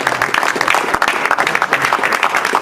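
Loud, dense applause from a crowd at a bill signing, steady clapping throughout with no break, close and filling the whole moment.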